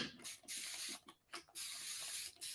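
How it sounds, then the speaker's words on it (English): A spray bottle squirts water onto a thrifted decor piece during a paint-blending touch-up, three or four sharp hissing bursts in quick succession, close and fairly loud, with no talk over them. "I'm going to spray with a little bit more water"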